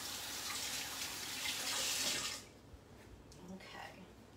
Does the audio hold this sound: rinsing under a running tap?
yes